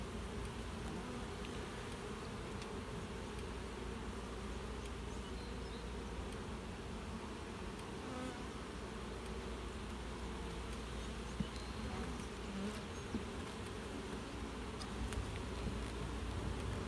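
Honeybees hum inside an opened overwintered nucleus hive during inspection, a faint, continuous buzzing drone with small scattered crackles and no talking.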